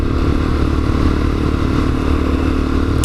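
Lexmoto Assault motorcycle ridden at about 30 mph after four years unused, its engine a steady, loud, close drone with continuous road and wind rumble throughout.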